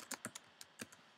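A few quiet, quick keystrokes on a computer keyboard, clicking in short irregular bursts close by, with no voice.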